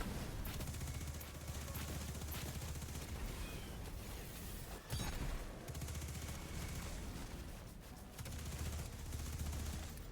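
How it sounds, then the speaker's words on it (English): Rapid SMG fire in Destiny 2, a Titan soloing a Glassway Grandmaster strike, sounding as dense, continuous bursts over game noise with a brief pause midway. "I'll kill him with the SMG"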